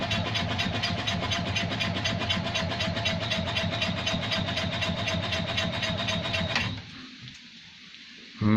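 An Invacar's small engine, started on full choke after sitting for days, runs with a steady mechanical clatter and busy idle for nearly seven seconds, then cuts out abruptly, leaving a faint quieter hum before a brief loud burst at the end.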